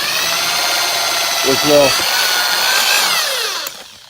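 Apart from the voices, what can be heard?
power drill drilling pilot hole with smaller drill bit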